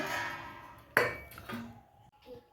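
A lid is set on a pot of cooked rice, giving one sharp metallic clank followed by a couple of softer clinks and scrapes, close and fairly quiet.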